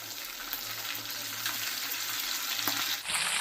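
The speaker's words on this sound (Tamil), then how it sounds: "பாருங்கள் மீன் ரெண்டு சைடுமே நல்லா பொரிஞ்சிருச்சு" Small anchovy fish frying in oil in a pan, a loud continuous crackling sizzle with faint stirring, close up and without talk throughout.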